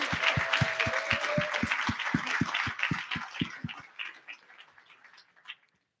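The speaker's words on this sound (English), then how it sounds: "just like one last round of applause for everyone" Audience applause at an advocacy and healing gathering, a dense wash of many hands clapping steadily with a rhythmic beat of synchronized claps underneath, then thinning out and fading to silence.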